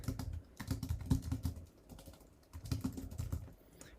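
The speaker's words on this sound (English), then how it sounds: "I can type out here an essay" Essay text typed on a computer keyboard, rapid irregular key clacks in close, quiet bursts with a brief pause in the middle and no talking.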